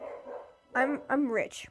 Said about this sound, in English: Sorry if you guys hear a dog barking.